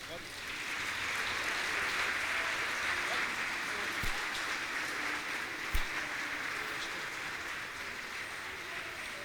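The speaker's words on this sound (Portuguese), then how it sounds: "Quem crê, bate palmas" A church congregation gathered for a communion service claps together in a long, steady wash of applause with a few sharp louder claps standing out, voices faintly underneath.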